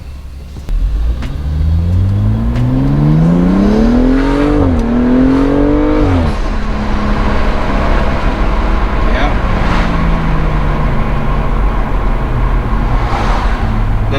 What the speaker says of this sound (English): So now we're gonna drive it to find out if it's if you can feel any power difference.